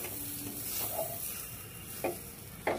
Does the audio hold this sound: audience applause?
no